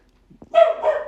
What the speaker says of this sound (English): I apologize, my dog's barking.